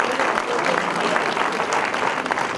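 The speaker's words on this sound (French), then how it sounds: "vous pouvez l'applaudir" A crowd at a sports awards evening in a town hall claps in a thick, continuous burst that fills the whole stretch at full strength without pause.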